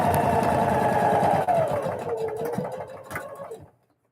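A sewing machine runs in one continuous close burst while stitching fabric for a Christmas bucket, then slows, clicks a few times and stops.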